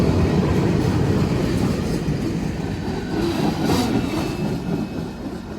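A long freight train of empty rack cars rolls steadily past close by on the rails, a loud continuous rumble with wheel clatter and faint squeal throughout, no talking.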